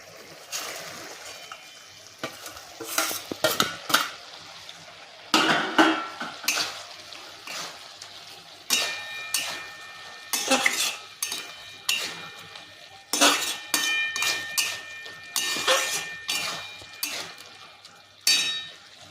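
Prawns go into a thick bottle-gourd-leaf curry, followed by bursts of metal spoon scraping and clinking against the pot, coming in irregular clusters with quieter pauses between them and no voices.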